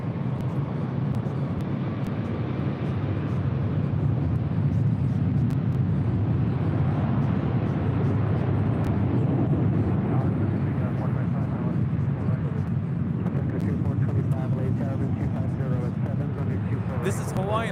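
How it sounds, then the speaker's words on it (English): Hawaiian Airlines Airbus A330-200 jet departing LAX for Honolulu, a steady broad roar of engine noise holding at a constant, fairly loud level, with some voice-like sound mixed underneath. "This is Hawaiian Airlines Flight 3 departing to Honolulu on the A330-200."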